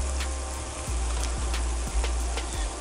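Yellow onion cooks down in a pan with a continuous close crackling sizzle, broken by a few soft regular stirring scrapes.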